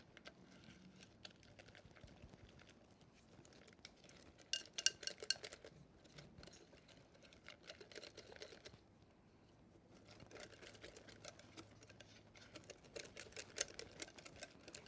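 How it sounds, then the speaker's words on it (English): Yorkshire pudding batter being whisked in a bowl, faint rapid rhythmic clinking and tapping that comes in bursts with short pauses between them. "And just whisk that up."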